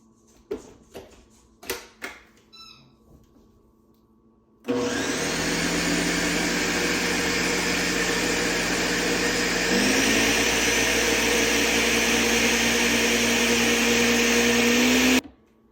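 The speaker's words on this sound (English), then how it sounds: "you can use a food processor or a blender" A kitchen blender whirs loudly and steadily for about ten seconds, its motor pitch shifting partway through. It starts after a few sharp knocks and rattles from the lid being fitted on.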